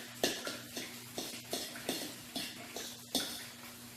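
A spoon clinks and scrapes against a bowl as jalapeno and honey are stirred, about a dozen light, evenly spaced knocks close by. There is no talking.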